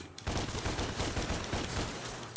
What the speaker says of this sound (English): Shoot them with your guns.